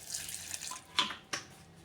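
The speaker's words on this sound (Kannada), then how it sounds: "ಒಂಚೂರು ನೀರು ಹಾಕ್ಕೊಳ್ಳೋಣ." A little water poured while grinding coconut for rasam, heard as a brief trickle and splash with two quick louder splashes, close and quiet with no talking.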